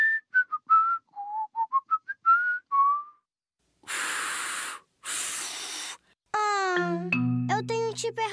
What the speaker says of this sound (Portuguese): E depois assobia a melodia.